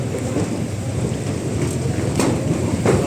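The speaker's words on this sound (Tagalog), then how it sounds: "Kasi malakas ang ulan." Heavy rain pours down at the public market in Angono, Rizal, a loud, steady roar of water drumming on surfaces for several seconds, with no talking.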